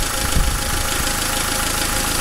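A Renault-built Dacia Logan dCi diesel with Delphi injection idles close up, a loud, steady clattering hum with an even knocking rhythm and no voices.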